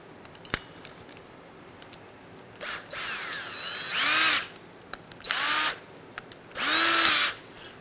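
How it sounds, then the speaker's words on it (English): A cordless drill in low gear stirs paint, whirring in several short bursts, its motor pitch rising and falling as it spins up and slows, with quiet pauses between. "we want to stir it up with a cordless drill"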